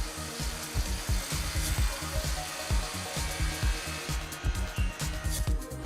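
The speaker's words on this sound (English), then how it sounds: "Automated grinders sweep along the walls of the tub, sanding down any rough surfaces." Automated grinders on a bathtub assembly line sand the tub walls, making a harsh, continuous abrasive roar with rapid rhythmic pulses throughout.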